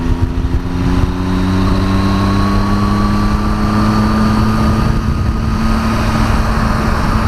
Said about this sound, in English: One thing that I'm slightly disappointed about with the bike is the sound it makes.